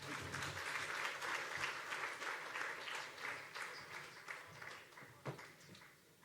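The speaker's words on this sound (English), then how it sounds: "let us put a warm applause" Audience applause welcoming a speaker at a tech awards event, steady dense clapping from a crowd filling the whole stretch, fading slightly toward the end.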